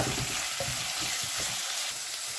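Onions fry in a pan while an oxtail stew is being made, a dense, close sizzle with low bubbling and soft stirring movement, brief and continuous without talk.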